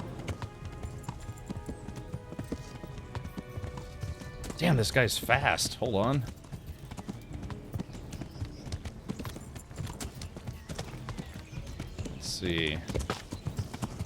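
Galloping horse in the video game Kingdom Come Deliverance, rapid rhythmic hoofbeats running throughout at moderate level, with someone briefly talking over it.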